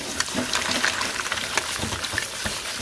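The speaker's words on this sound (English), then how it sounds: "then I put the cold tap on over the top of them." Cold tap water runs over blanched mussels in a kitchen, making a close, continuous splashing hiss with small irregular spatters throughout the short stretch, and no voices.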